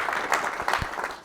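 Audience applause rising from a crowd at a legal talk, a dense steady patter of many hands clapping throughout.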